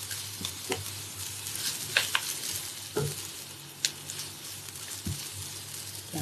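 Char Kueh Teow flat rice noodles being stir-fried in a hot pan over high heat: a steady sizzle with scattered scraping and clinking strokes of the spatula, close and alone without talk.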